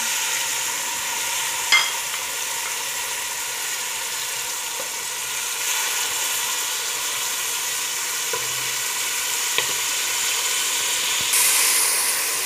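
Onion sizzling in a pan of butter and a little oil while a chicken tajine is started, with steady close frying hiss and a few faint clinks of stirring.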